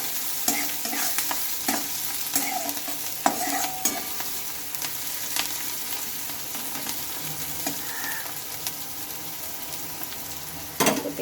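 Sliced onion fries lightly in a pan with a steady soft sizzle while a utensil scrapes and stirs it, with irregular clicks and scrapes throughout and no voices.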